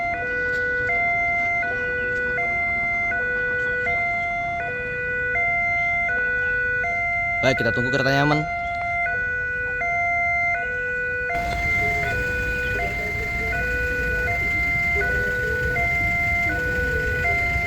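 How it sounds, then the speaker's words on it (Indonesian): A railway level crossing warning siren sounds in a steady, repeating two-tone pattern, loud and close, continuing throughout. A brief sharp clatter cuts in midway, a voice speaks once, and the background grows noisier toward the end. "Sirine JPL berbunyi, ya."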